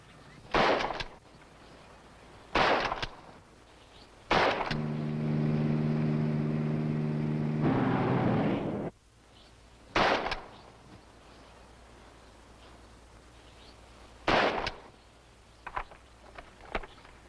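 Rifle shots fired at a paper poster target in a 1950s Western setting, several sharp loud cracks spaced a few seconds apart, with a sustained engine-like drone in between.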